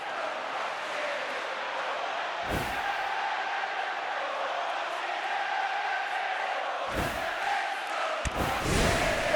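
A packed football stadium crowd roars and murmurs continuously at the Manchester United versus Atlético Madrid match, a sustained distant wall of voices with a few sharp bursts of louder noise cutting through.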